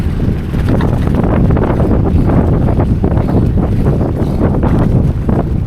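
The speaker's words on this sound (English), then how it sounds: "Strong gust of wind." A strong gust of wind buffets the microphone during an outdoor bike ride on a road, a loud, continuous rumbling roar that persists for several seconds with no speech.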